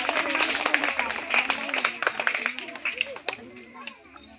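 An audience applauds at a Montessori school's annual report ceremony: a steady patter of many hands clapping at close range for several seconds, with crowd chatter and voices mixed underneath, thinning slightly toward the end.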